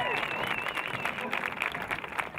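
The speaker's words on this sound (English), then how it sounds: "Let's give Emily a round of applause." Crowd applause at a girls' high school lacrosse game for a departing player, scattered clapping and cheering from spectators, fairly distant and mixed with voices.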